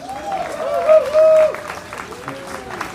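Audience applause for a big band at a live evening event in Manhattan, a steady wash of clapping over about three seconds, with a sustained tone and some voices mixed in.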